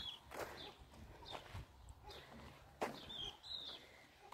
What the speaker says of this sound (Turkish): Kuşun sesine bakın.